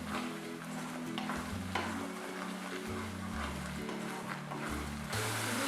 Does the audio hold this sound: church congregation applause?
no